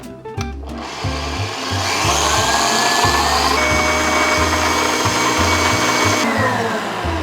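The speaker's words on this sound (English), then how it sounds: "And then we want to start whisking it to it's a nice" An electric mixer whisks chickpea water with a spoonful of vinegar into vegan meringue, a loud continuous motor whir with shifting pitch and churning texture throughout, no talking.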